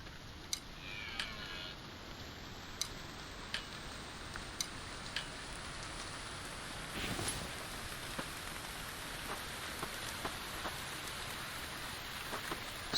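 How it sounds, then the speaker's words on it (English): Rain falls steadily in the survival video game The Infected, a continuous hiss with scattered ticking droplets and faint clicks throughout, no voices. "we won't be able to start our campfire because it's raining right now"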